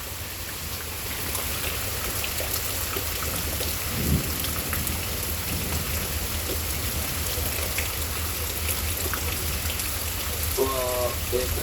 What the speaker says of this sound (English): this is more thunder in the distance